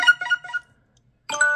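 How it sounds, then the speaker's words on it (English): A BlackBerry Curve notification tone set as a phone ringtone plays twice: a bright, quick run of chiming notes, then silence, then the chime starts again, clear and close with no voices. "This is a BlackBerry, from like BlackBerry Curve, which I used to have back in the day. I always liked this notification."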